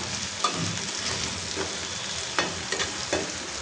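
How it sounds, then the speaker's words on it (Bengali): A turmeric spice paste fries in oil in a pan for a tilapia fish dish, giving a steady, close sizzle with a few soft stirring knocks and no voices. "এটা কষাবা, এটা একটু হালকা ভাজবো।"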